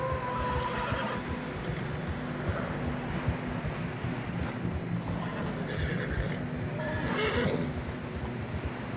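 Horses in Red Dead Redemption 2 whinny and snort while struggling through deep fresh snow amid a dense rumbling background, with a couple of louder neighs standing out over the continuous noise.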